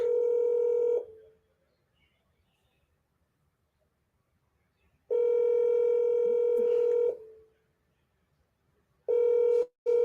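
Two long steady two-tone telephone ringback tones followed by the start of a third, separated by silence, heard while dialing out on a call, clear and alone with no voices.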